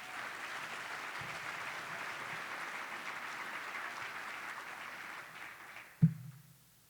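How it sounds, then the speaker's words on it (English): Steady audience applause fills a chamber of commerce annual meeting and awards breakfast, sustained for several seconds before cutting off abruptly with a thump near the end. "I want to give them a round of applause just for being here"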